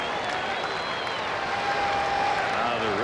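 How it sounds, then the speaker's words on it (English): Angels fans at a 1995 baseball game against the Twins in Anaheim clap en masse, a dense, steady wash of crowd applause heard from a distance across the stadium. "Now the rhythmic applause begin among the Angels fans here in Anaheim"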